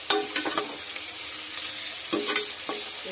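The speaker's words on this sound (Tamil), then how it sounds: "ஓகே நல்லா மிக்ஸ்" Prawn biryani mixture being stirred in a pan, with a steady sizzle and several scraping strokes of the spoon against the pan, close and clear, with no talking.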